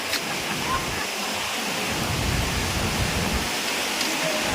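Tukuran Falls in San Teodoro, Oriental Mindoro, a steady broadband rush of falling water from nearby, constant and even for the whole stretch.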